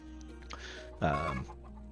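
Chickens in a block-building video game give a couple of short, close clucks over a low, steady background hum.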